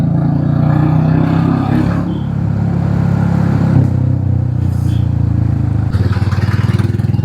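A motorcycle with its stock exhaust refitted revs nearby with a loud, rumbling, throaty drone that swells and eases in waves before a sharper burst near the end.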